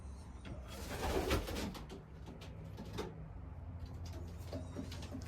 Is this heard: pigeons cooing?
yes